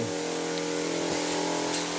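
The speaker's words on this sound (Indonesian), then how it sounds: "angklungnya disemprot" Disinfectant sprayed onto a bamboo angklung in a school music room, a steady hissing spray running the whole time with a constant low hum beneath it.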